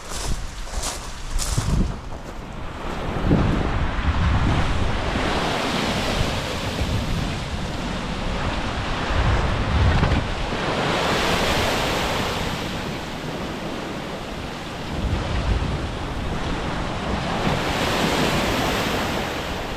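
Ocean waves break on the shore along the coast between Hopton on Sea and Gorleston on Sea, rolling surges of surf rising and falling over a constant roar, with gusts of wind buffeting the microphone.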